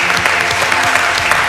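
Loud, dense applause from a crowd congratulating the winner of a poker tournament at Clairefontaine, close and continuous with a faint murmur of voices and a low musical hum beneath.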